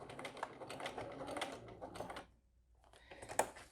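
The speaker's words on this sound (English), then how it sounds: "I just sew one line against the D-ring first, all the way." A sewing machine stitching a line beside a D-ring on a small crossbody bag, with a close, rapid mechanical chatter that stops briefly and then resumes.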